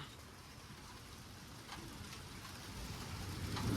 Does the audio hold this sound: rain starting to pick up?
yes